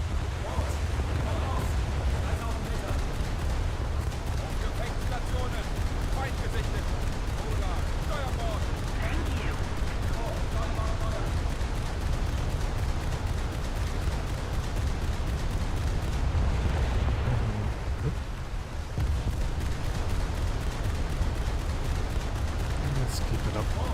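Naval guns in a video game boat battle fire fragmentation incendiary shells in a dense, continuous barrage of booming blasts and rumble, with a voice talking over the gunfire throughout.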